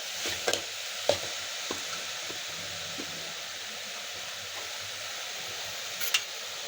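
Almonds and cashews being dry-roasted in a pan for ukadiche modak, a steady soft sizzle and hiss with a few sharp scraping stir clicks, close and alone.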